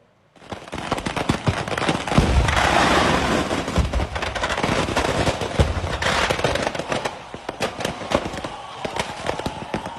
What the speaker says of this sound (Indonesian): Video amatir merekam detik-detik ledakan kembang api di tengah Festival Kembang Api